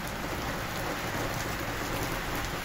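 Steady rain falls on a village, a dense, even hiss that stays loud and unbroken throughout, with no voices.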